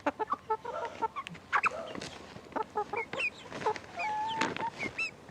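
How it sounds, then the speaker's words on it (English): Four backyard hens perched on a lap cluck and murmur close by, trading short repeated calls and a few longer tonal notes, with no talk. "Four chickens on your lap."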